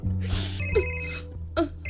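A cellphone rings with a repeating electronic bell-like tone, fairly loud and close, sounding through a couple of short bursts in an indoor drama scene, with a voice briefly heard over it.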